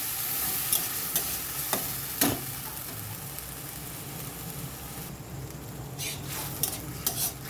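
Ginger-garlic-chili-turmeric paste frying with onions in a pan, a steady close sizzle with a spoon scraping and stirring in repeated strokes, several sharper scrapes near the start and end.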